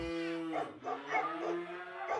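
A dog in a cage gives a drawn-out whining, yelping bark, a few pitched cries in a row heard fairly close against a quiet background, with no talking.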